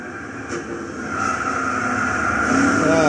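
1970 Dodge Charger 440 R/T in Gran Turismo 6 on the Tsukuba circuit, the V8 engine note climbing in pitch and loudness as it accelerates down the straight, with a brief tone near the end, no talk.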